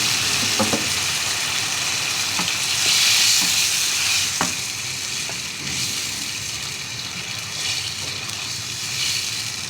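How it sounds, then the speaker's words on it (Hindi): Water is poured into a pan of cooking chana dal, raising a loud, continuous hiss and sizzle with a few clinks, heard alone without talk. "इसमें पानी डालेंगे, तकरीबन इतना पानी कि दाल अच्छी तरह डूब जाए इसमें।"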